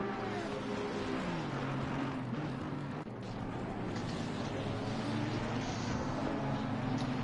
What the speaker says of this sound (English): Got the Lamborghini, fantastic on acceleration.